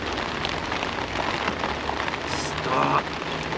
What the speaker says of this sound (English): I'm getting frustrated in this rain.